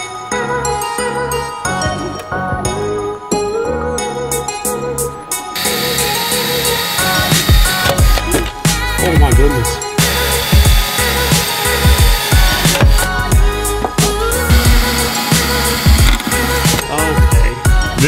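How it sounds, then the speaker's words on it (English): A drill bores holes during a race car turbo install, fitting a MegaSquirt ECU and electronics with a cheap drill bit. The whine is loud and steady, close by, with gritty bursts as the bit bites. "I need to drill some holes"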